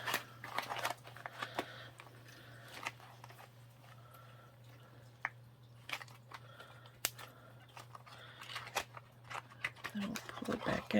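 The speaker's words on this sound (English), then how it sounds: "And I'll crinkle it some more." Faux leather material for a journal cover gets crinkled by hand, soft close crackles and sharp little crinkles coming in irregular bursts over a low steady hum, with a voice speaking quietly at moments.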